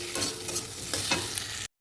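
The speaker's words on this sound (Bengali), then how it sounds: "এবার আলুগুলো দিয়ে ভালো করে মশলার সঙ্গে কষিয়ে নেবো।" Fried potatoes, lightly pre-fried in oil, are stirred into a spice masala in a pan for a vegetarian soya keema, giving a few close scraping stir strokes over a soft sizzle before cutting off.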